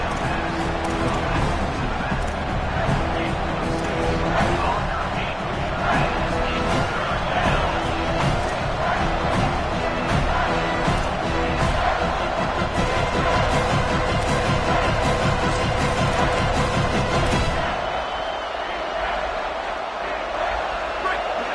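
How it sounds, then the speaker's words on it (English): A packed stadium crowd at an Indy vs USC football game roars at fever pitch, a dense, constant wall of cheering and shouting that holds loud throughout and then eases slightly at the end, under a commentator's voice. "this crowd is at fever pitch"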